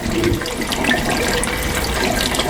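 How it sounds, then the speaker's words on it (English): Water streaming steadily down inside a hydroponic growing tower in a greenhouse, a continuous close splashing trickle with no pauses. "It's not very apparent, but the water comes down inside of here."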